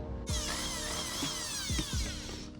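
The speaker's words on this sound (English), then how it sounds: "I'll grab my drill after marking where it needs to go, and I'll just kind of drill a pilot hole" A power drill whines steadily at close range, drilling a pilot hole for a screw while installing side skirts on a Scion tC, its pitch sliding down and up as the bit bores in, with a few faint knocks.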